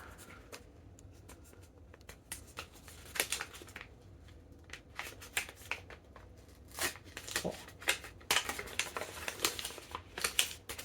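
A small envelope holding stickers and cards being opened, with quiet scattered paper crinkles, rustles and light tearing taps, close and faint, growing busier toward the end.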